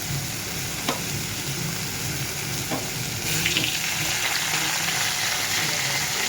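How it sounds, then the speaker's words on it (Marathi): Boiled potato, cooked along with spinach, goes into a pan of sizzling spinach. A steady close frying sizzle runs throughout, with a few soft knocks and stirring sounds and no voices. "आता मी इथे टाकते उकडलेला"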